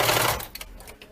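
A sewing machine stitches a short burst with a backstitch, loud at first and then tapering into lighter mechanical ticking, close up with no talking.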